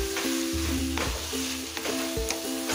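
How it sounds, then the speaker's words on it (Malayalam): Schezwan chicken stirred and fried in a pan until dry, a steady loud sizzle with repeated scraping strokes of the spoon roughly every half second. "നന്നായിട്ട് അങ്ങോട്ട് മിക്സ് ചെയ്യാം. എന്നിട്ടൊന്ന് ഡ്രൈ ആക്കി എടുക്കാം."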